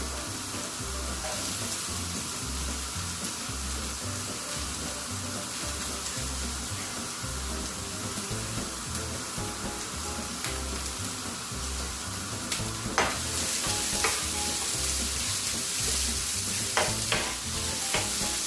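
Carrots sizzling in hot oil in a pan for bibimbap, with a steady close crackle and the rhythmic scrape of stirring throughout, growing a bit busier toward the end.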